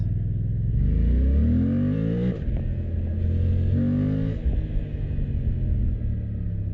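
A Suzuki GSX-8R 779cc parallel-twin motorcycle pulls hard while riding, its engine note climbing in repeated rising sweeps through the gears, loud and close with wind rumble underneath.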